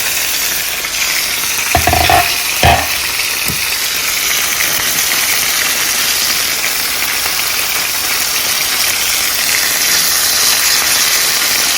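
Chicken roll ups sizzle steadily in a frying pan, a continuous close crackle with a few brief louder clatters near the start, no voices.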